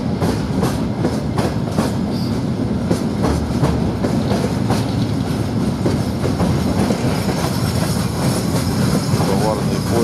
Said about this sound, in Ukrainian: Товарний поїзд прибув з окупованих територій.